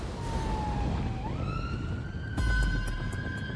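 Wailing ambulance siren on blue lights sweeps through rising and falling tones, loud and steady across the clip with a brief sharper burst near the end.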